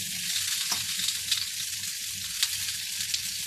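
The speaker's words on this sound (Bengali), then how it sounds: "একটু হালকা লাল লাল করে ভেজে নেব" Spices fry in a little oil for a fish roe and cauliflower curry, a close, steady sizzle with a few sharp crackles and stirring scrapes.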